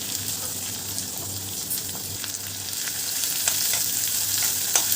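Green chillies and onion sizzle and fry steadily in a hot pan for a spicy tomato relish, a continuous bright crackle with a few sharper pops, close and alone with no talk.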